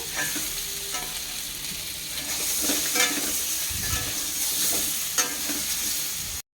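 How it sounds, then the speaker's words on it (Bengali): Potatoes for aloo dum fry in hot oil in a pan, giving a loud, steady, unbroken sizzle with faint stirring scrapes throughout. "এবার আলুর দমের আলুটা ভেজে নেওয়া হচ্ছে"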